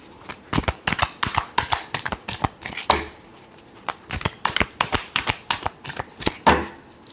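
A deck of tarot cards shuffled by hand, repeated brisk riffling flutters and card slaps in a fast uneven rhythm, up close and prominent, no voices.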